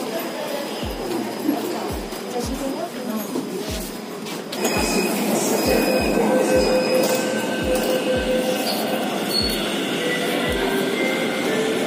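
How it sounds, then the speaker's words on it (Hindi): Riding a metro train in India: a steady rumble of the moving carriage fills the car, with a rhythmic series of low thumps from the wheels over rail joints and faint chatter around. "मेट्रो बोर्ड कर लिया हमने"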